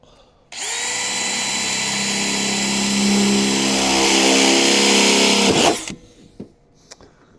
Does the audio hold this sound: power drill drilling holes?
yes